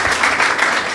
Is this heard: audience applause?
yes